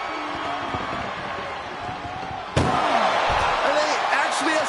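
An ambulance door slams shut in a WWE 2K wrestling game, one sharp loud bang midway through over steady arena crowd noise and commentary.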